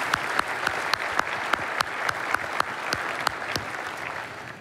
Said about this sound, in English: Please join me in a round of applause for the HoHo Cams.